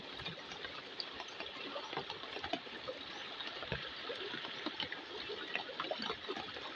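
A river flows quietly in the background, with a soft continuous babble and trickle of water and scattered small splashes, faint and steady throughout.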